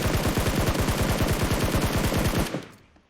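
Rapid automatic gunfire in the video game PUBG Mobile, a loud close burst of evenly spaced shots that stops abruptly and leaves a short fading tail.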